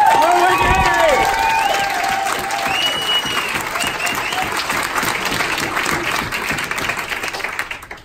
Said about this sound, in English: Can we have a round of applause for Bethy Boo?